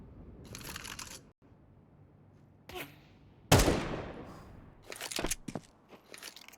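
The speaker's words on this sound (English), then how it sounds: "Single bullet fired off" A single gunshot in Counter-Strike on the map Vertigo, one sharp, loud crack midway with a ringing tail, surrounded by quieter clicks and brief bursts of game noise.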